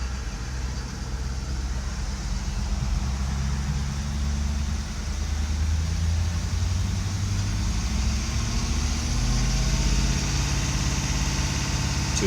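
Ford F-250 Super Duty 6.7L diesel holding a steady high idle, a loud continuous low rumble with a constant drone and no speech.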